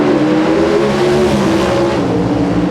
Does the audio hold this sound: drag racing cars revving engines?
yes